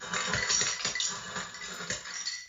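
An ice maker drops cubes in a clattering burst of hard clinks and knocks, dense at first then thinning into scattered rattles, close and moderately quiet.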